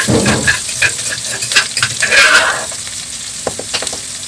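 Pounded chili and garlic dropped into hot oil in a pan for a Thai stir-fry with mackerel: a loud, close sizzle with scraping stirs, flaring early and settling into a softer crackle.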